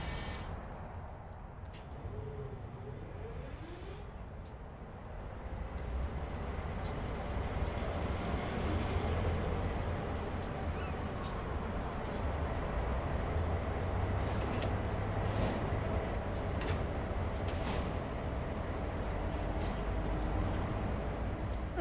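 A locomotive power unit idles steadily in a train simulator game on an iconic US cargo line, a continuous low rumble with a few light clicks on top, running unbroken throughout.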